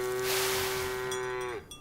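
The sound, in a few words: Holstein cow mooing in the video game Farm Together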